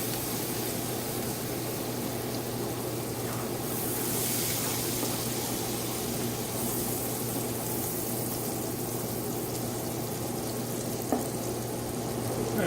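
Vegetables cooking down in a pan for shrimp and grits give a soft continuous sizzle with faint stirring scrapes, steady and low, with no talk.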